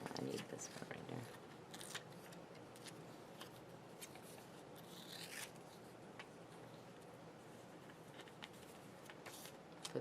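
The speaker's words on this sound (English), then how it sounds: "Cut that white off there" Scissors snip through glossy magazine paper in short, crisp cuts scattered irregularly, close and fairly quiet, with paper rustling and handling between snips.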